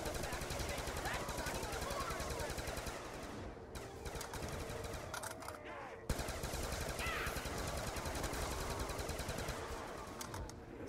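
Gunfire in the video game Buried: dense rapid bursts of shots run nearly continuously at low level, with a brief break midway, while distant voices are heard under it.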